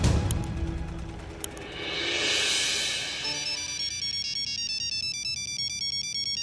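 A phone rings with a bright, repeating electronic melody that starts after a swelling whoosh and keeps cycling steadily to the end.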